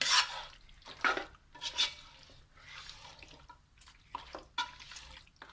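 Mutton being mixed with gravy by hand in a large vessel for Rajasthani-style mutton banjara, heard as intermittent wet squelching and clinking bursts with short pauses between strokes, close and fairly quiet, with no talk.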